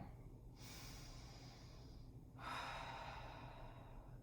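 Quiet, close breathing during a yoga warm-up, with two slow, airy breaths through the nose, the second fuller and longer than the first.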